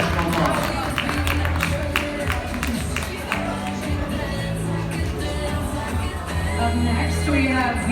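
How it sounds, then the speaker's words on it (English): A crowd at a doll fashion show claps and cheers in a sustained round of applause, loud and dense, with a voice speaking over the noise. "a big round of applause for Cheyenne."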